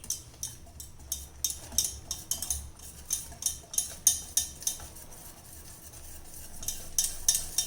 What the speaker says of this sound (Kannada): ಈಗ ಇವೆಲ್ಲವನ್ನು ಕೂಡ ಚೆನ್ನಾಗಿ ಮಿಕ್ಸ್ ಮಾಡಬೇಕು.